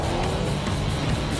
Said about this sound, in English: I can hear your car lighting up in front of mine.